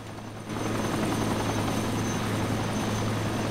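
Helicopter in the video game ARMA 2: a loud, steady rotor and engine roar swells in after a brief quieter moment and holds constant, close and dominant throughout.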